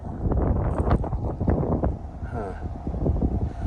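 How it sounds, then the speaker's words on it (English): A cold wind gusts at a campsite by a fire at night, buffeting the microphone in loud, rough rumbles with rustling. A voice seems to murmur faintly underneath. "Wind cuts right through you."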